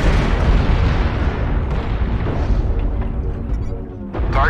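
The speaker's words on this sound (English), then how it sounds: "Warning, incoming missile." A missile explodes in a video game canyon assault battle, giving a loud, continuous rumbling boom with dense crackling that holds steady for several seconds, dips briefly near the end, then swells again.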